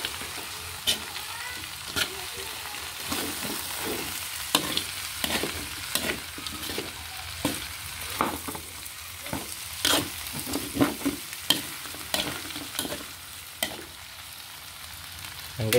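Turkey pieces frying in a pan give a constant low sizzle, while a utensil scrapes and knocks against the pan in frequent sharp strokes at an uneven rhythm; no one speaks.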